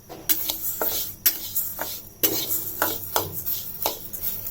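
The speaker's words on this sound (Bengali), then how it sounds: "মাসকালাইয়ের ডাল কাঁচা থাকলে একটু ভেজে নিতে হয়" Black gram (mashkalai) dal dry-roasting in a kadai on a stove, stirred with a utensil that scrapes and clinks against the pan in repeated strokes, fairly close and steady, with no voices.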